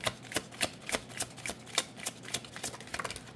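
Oracle cards are shuffled by hand in quick, irregular bursts of soft papery riffling and slapping, close up and fairly quiet, with no voices over them.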